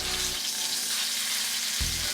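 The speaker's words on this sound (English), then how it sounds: "Get it down in the oil. Get a good sear on it." Pork sizzles and fries steadily in hot oil in a pan, a continuous close crackle with a brief louder burst near the end.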